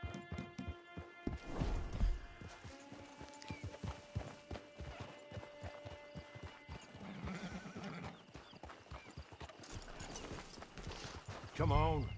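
Horse hooves clip-clop steadily on the ground near a camp, with a horse whinnying and some equipment rattling, while voices speak in the background.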